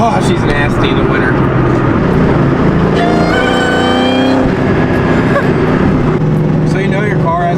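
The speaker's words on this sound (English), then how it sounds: "Oh, that supercharger whine is so loud right now." A supercharged Ford Mustang GT V8 with over 400 horsepower accelerates hard from inside, engine roaring loudly with a rising supercharger whine through the gears while people talk over it.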